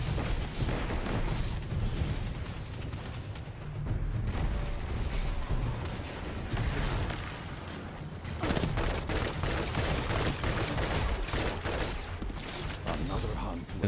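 Rapid-fire pulse rifle from Destiny 2 fires in dense, continuous bursts with a sustained loud clatter across the whole stretch, broken only by brief dips before firing resumes.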